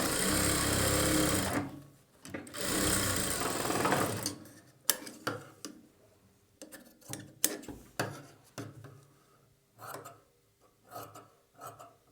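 A sewing machine stitches blouse lining onto the main fabric in short bursts: a loud continuous run, then a second, followed by brief stop-start stitches and clicks with pauses between.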